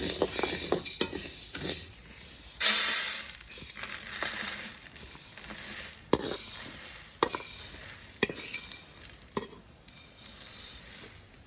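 Coffee beans roasting in a pan for homemade village coffee powder, stirred with dry scraping and rattling strokes over a soft sizzle, with sharp clicks and crackles recurring irregularly throughout, close and fairly quiet.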